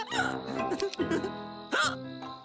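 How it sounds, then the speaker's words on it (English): A cartoon character hiccups with sharp, sudden vocal gulps, a few of them close and clear, mixed in with voiced sounds. "I've got the hiccups"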